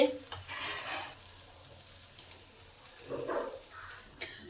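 Mashed brinjal sizzles and dries out in a pan over high gas heat, a fairly quiet, steady frying hiss with occasional stirring scrapes, in a home kitchen.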